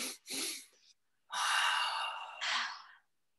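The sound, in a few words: deep breath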